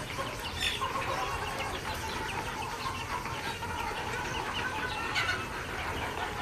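Egyptian Fayoumi chickens cluck and chatter steadily at a poultry farm near Mawa, a dense, continuous flock noise close by with no talk.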